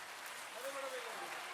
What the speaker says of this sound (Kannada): ಬರಲಿ ಇನ್ನು ಜೋರಾದ ಚಪ್ಪಾಳೆ